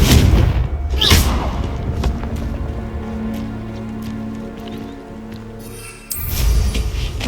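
A Confringo explosion spell in Hogwarts Legacy gives a deep booming blast at the start, then a low rumbling tail and hum, followed by a second heavy thump near the end.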